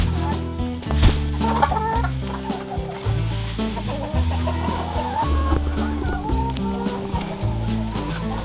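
Chickens cluck repeatedly in an uninsulated barn in cold weather, several birds near and fairly loud, with rhythmic thumps and other farmyard noise underneath.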